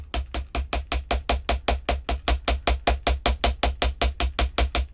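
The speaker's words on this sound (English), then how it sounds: "And this is a ball peen hammer." A ball peen hammer strikes wire on a steel bench block in a steady, even rhythm, about five sharp metallic blows per second, loud and close with no talk.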